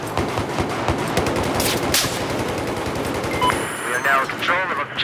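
Rapid machine gun fire in Battlefield 4 on the Operation Locker map, sustained bursts of close, loud shots for several seconds, with radio voices talking over the gunfire.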